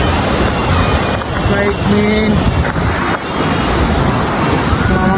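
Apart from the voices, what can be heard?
waterfall rushing water in Kerala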